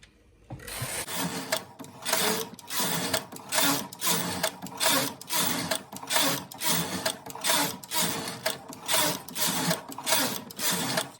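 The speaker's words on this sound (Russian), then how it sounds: "Вы слышите, как я провожу кареткой, вяжу" Rhythmic rasping swishes repeat about once a second as a carriage is pushed back and forth across a knitting machine knitting a rep pattern, close and steady.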